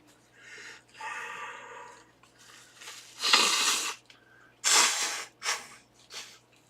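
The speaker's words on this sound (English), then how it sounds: "Excuse me for blowing my nose." Someone blows their nose in several forceful, breathy bursts, a few short and a couple long and loud, close up.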